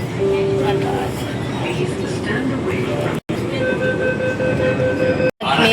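Steady rumble and rattle of a metro train in motion, with voices chatting throughout and a couple of brief cutouts.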